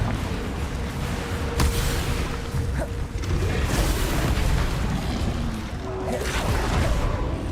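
A Confringo fire spell exploding in a Hogwarts video game gives a loud, booming blast with rumbling whooshes that carry on through the whole stretch, dense and close, with a few sharp pops on top.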